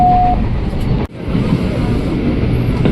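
An INKA-built KRL commuter train rumbles loudly from inside as it runs into Manggarai transit station in Jakarta, a steady heavy roar with a brief dropout and a faint tone at the start.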